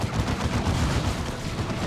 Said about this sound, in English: Blastmaster gets a good shot